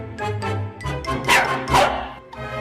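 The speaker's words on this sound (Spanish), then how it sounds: "Este es el ladrido del mejor amigo del hombre," A dog barks several times in quick irregular bursts, close and loud, mixing deeper woofs with higher yips.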